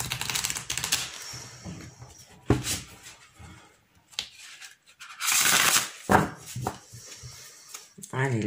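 Tarot cards shuffled and cut by hand, with bursts of papery riffling and sharp slaps, quiet gaps between them, and someone speaking softly at times.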